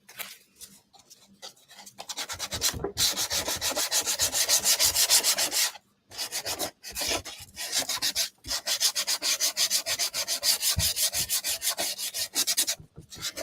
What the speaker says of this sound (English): A little sandpaper is always going to make it better.